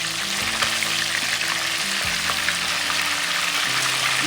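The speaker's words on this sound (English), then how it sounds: "Now you can see that our fish is getting cooked. Now we can start flipping them." Fish frying in hot oil for attieke, a steady loud sizzle throughout with low clatter and scraping as pieces are turned in the pan.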